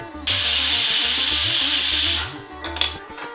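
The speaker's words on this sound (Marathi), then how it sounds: "आता कुकरला झाकण लावून टाकू आणि 2 शिट्या झाल्या की गॅस बंद करू." A pressure cooker whistle: a sharp, loud steam hiss bursts out for about two seconds while cooking rice, then cuts off, leaving soft clicks and background music.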